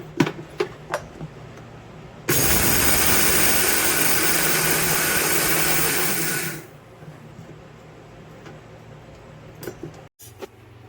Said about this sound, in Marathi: हे आता तांदूळ थंड झालेत. हे मिक्सरला मी वाटून घेत आहे.